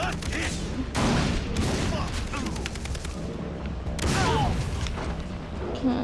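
Gunfire in the video game Far Cry 3 comes as rapid bursts of automatic fire and sharp single shots, loud and close, while players talk excitedly over the top.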